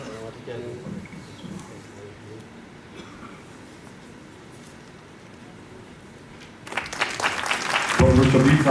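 Quiet murmuring and a few scattered claps at a university convocation in Srinagar give way to a swell of audience applause near the end, growing louder over the last two seconds.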